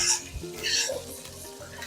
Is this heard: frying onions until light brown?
yes